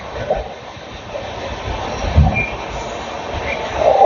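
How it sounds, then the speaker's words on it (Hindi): An Indian passenger train pulls away after a one-minute technical stop, its steady rolling rumble close and continuous, with a faint high squeal near the end and no talking. "मात्र 1 मिनट का टेक्निकल स्टॉपेज के बाद हमारी ट्रेन निकल चुकी है।"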